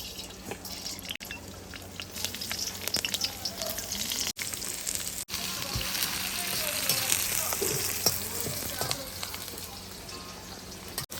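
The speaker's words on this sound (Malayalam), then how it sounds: "അപ്പൊ ആദ്യം നമുക്ക് കടുക് ഇട്ട് കൊടുക്കാം" Mustard seeds sputter in hot oil in a home kitchen while tempering for a mango pickle, a steady hiss of sizzling with small pops and crackles, heard up close with occasional faint handling sounds.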